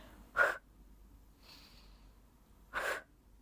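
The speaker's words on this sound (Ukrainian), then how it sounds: "глибокий вдих, і на видих виштовхнули" Two sharp, forceful breath bursts a couple of seconds apart during a postpartum back and core workout, with a softer breath in between, close and fairly quiet, no talking.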